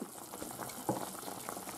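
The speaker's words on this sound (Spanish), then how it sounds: "Ya está hirviendo." Tomato sauce simmering in a pot, a quiet, steady bubbling with small pops, faint and close, with no talk.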